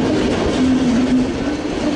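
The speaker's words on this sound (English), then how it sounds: "there's an intercity to Hamburg" An intercity train rolls across the Hohenzollern Bridge in Cologne with a steady, close rumble of wheels on rail and a thin, sustained wheel squeal running through it.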